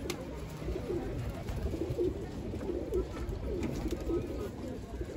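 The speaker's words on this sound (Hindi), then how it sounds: "ये आ गए भाई कबूतर" Pigeons coo in soft, repeated low burbles, close by and continuous, with some faint background noise.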